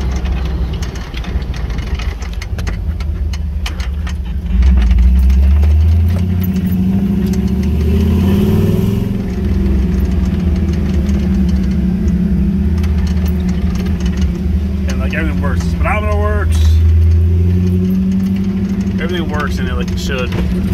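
A 1979 Jeep CJ7 engine runs steadily in fifth gear, a loud low drone that rises and falls with speed, joined by rattles and clinks, while someone talks over it now and then.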